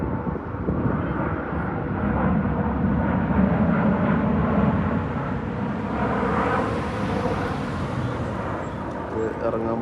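A Fly Dubai passenger jet coming in to land makes a steady, fairly distant engine roar that swells slightly midway, with people talking faintly underneath.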